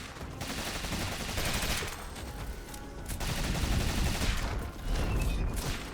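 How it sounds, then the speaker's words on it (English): Gunner-class gunfire in the video game Rogue Legacy 2, with continuous rapid shots and crackling blasts at steady high volume and dense game effects layered in. "I didn't expect shooting them would do anything."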